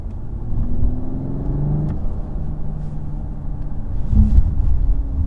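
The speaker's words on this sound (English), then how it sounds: "The sound is pretty nice for the CLS 450 in Sport Plus." Mercedes CLS 450 AMG engine in Sport Plus mode, a low steady rumble with a brief swell of revving, heard from inside the moving car without talk.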